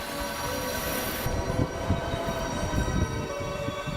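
A French high-speed train, the TGV, rushes past with a steady roar and metallic wheel squeal, loud and continuous throughout.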